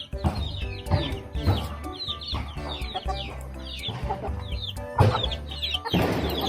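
Several chickens cluck steadily around a backyard coop at a Filipino home, overlapping calls close by with a busy, continuous texture and occasional louder squawks.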